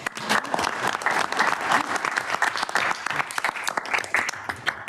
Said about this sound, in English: Let's another round of applause for our great chairman, Scott Dibble.